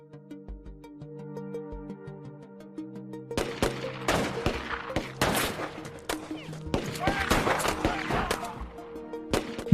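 A film shootout between police and FBI agents erupts into dense, irregular bursts of gunfire after a quiet stretch of sustained musical tones, with the shots crackling loudly over the score.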